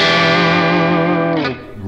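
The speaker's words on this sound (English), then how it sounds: "really, really usable single coil sound" A sustained, bright chord from a Yamaha Pacifica 812V electric guitar in single coil mode through a Yamaha THR10 amp rings out clean and full, then is cut short by a brief scrape near the end.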